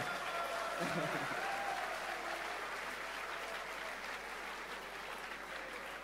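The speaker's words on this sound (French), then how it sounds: "On peut les applaudir bien fort." An audience at a student launch evening claps loudly and continuously for candidates who have just finished speaking on stage, a thick, even wash of applause that fades slightly toward the end.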